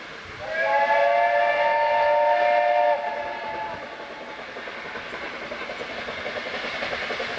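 A loud steam whistle blast for a few seconds, followed by the steady, rhythmic chuffing of a steam locomotive, the Duke of Gloucester, working at a distance.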